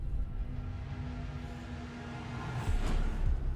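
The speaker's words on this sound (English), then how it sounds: "That is the sound of the map starting just before ban phase." Video game intro cue marking the map start before the ban phase, a faint, continuous layered swell with a brighter whooshing rise near the end and no talking.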